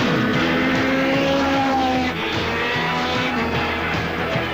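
A Nissan Skyline GT turbo with a 4-valve DOHC turbo engine of 190 horsepower, driving hard: a loud, continuous engine roar with rising tones and a brief dip midway.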